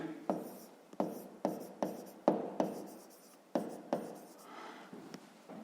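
Pen writing on paper in a quiet room: a steady series of soft, close scratching strokes, roughly two per second, each starting with a small tap and trailing off, with no talk.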